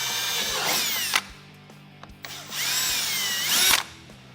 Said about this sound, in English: Now we're going to take our 9/32 drill bit, and we're going to drill through the factory indentions.